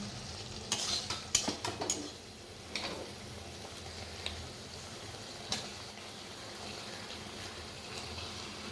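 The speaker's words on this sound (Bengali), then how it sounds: "মশলাটা কষিয়ে নিয়ে মাংসটা দিয়ে দেবো" Masala for meat being stirred and fried in a large kadai: a steady sizzle under scraping spoon strokes, busiest in the first few seconds and then settling into a continuous frying hiss, with no talking.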